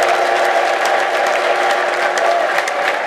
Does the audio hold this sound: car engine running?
no